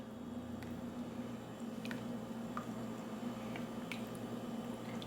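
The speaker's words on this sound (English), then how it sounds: "I'm going to give it one final stir." Gluten-free ramen soup is stirred in a pot, faint squishy liquid sloshing and a few small clinks over a steady low hum, quiet and close.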